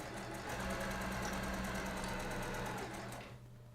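A sewing machine stitches quilt pieces together in a continuous close, rapid whir with fine needle ticking, holding steady before easing off near the end, with no voices.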